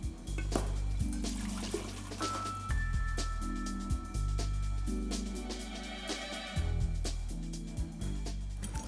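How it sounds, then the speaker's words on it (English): Water is poured into an ice cream mix of sugar and milk powder, a continuous splashing and trickling pour lasting several seconds, up close, with a low steady backing tone underneath. "So then we add water here."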